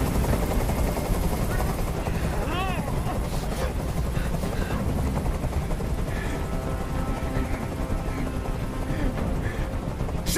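A helicopter hovers in Detroit: Become Human during a hostage standoff, its steady rotor drone filling the whole clip loudly and evenly, with game sound effects and music layered over it.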